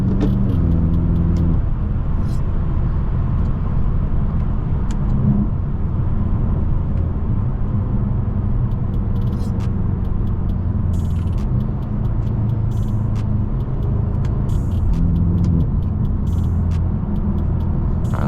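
A BMW M6 cruising in traffic at sunset, heard from inside: steady, loud engine and road noise throughout, with occasional mechanical creaks and clicks over the continuous drone.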